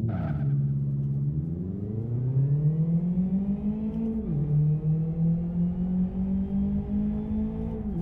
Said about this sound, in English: And now I can just drive the car.